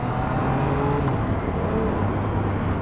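A Yamaha MT-09 motorcycle engine pulls steadily in first gear up to about 6,000 rpm. The engine drone is continuous and fairly loud, with a rising tone and steady road and wind noise throughout. No one speaks.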